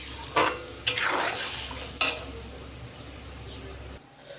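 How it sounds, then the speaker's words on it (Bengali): A fish curry gravy bubbling and sizzling in a pan, with a few sharp clinks of a utensil against the pan over a steady sizzle. "দেখুন বন্ধুরা, ঝোলটা ফুটে একদম কম হয়ে গেছে।"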